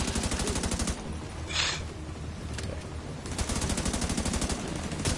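Rapid automatic gunfire aimed at a turret in The Division 2 rattles in fast bursts, with a short lull in the middle before a long, loud stream resumes.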